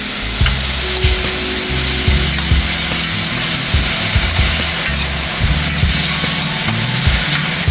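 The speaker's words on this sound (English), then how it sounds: "after you stir fry for a little bit, just add a little bit soy sauce" Vegetables stir-frying with a splash of soy sauce for hot and sour soup, a loud steady sizzle close up with scraping and stirring knocks throughout, no voices.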